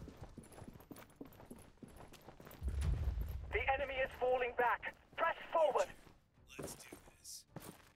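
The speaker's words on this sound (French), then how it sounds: "Oh, il y a des mecs qui sont à cheval." Horses gallop across a medieval battlefield in the video game Warhaven, a muffled thudding of hooves beneath game noise while a player talks excitedly over it.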